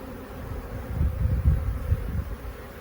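A swarm of honey bees clustered in a ball hums in a low, continuous drone, fairly quiet and close, swelling slightly in the middle with no talking over it.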